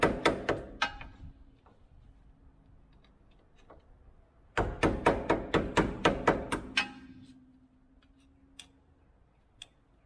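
A metal dust cover is knocked off a car's wheel hub. Sharp, close metallic taps come in two bursts: a few strikes first, then a quick run of about eight. A couple of faint isolated clicks follow.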